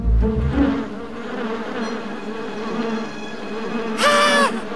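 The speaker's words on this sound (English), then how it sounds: "How could have that huge bee's nest ended up on my front porch?" Buzzing from a huge bee's nest on a front porch in the Boonie Bears children's cartoon, a steady droning swarm with layered insect whine throughout, swelling louder near the end, with no talk.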